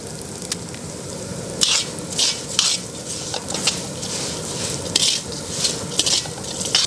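Black pepper frying in hot oil for a Trichy wedding-style sambar tempering, with steady crackling sizzle and several spoon-scraping stirs against the pan, close and fairly loud, no talking.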